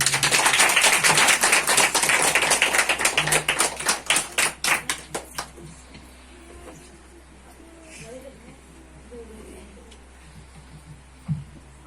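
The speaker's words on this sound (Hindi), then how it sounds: "ऐसे में इसके लिए भी हम लोग ताली बजाएं।" A village crowd applauding its village head, dense loud clapping for about five seconds that thins out into scattered claps and fades into quiet outdoor murmur.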